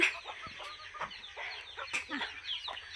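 A hen clucks softly and repeatedly at close range, making low murmuring calls over a quiet background.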